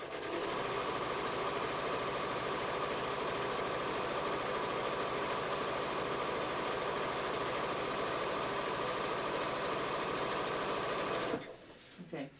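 A sewing machine stitches across a yoga pants pocket in a steady, close, rapid mechanical chatter that runs unbroken and stops near the end.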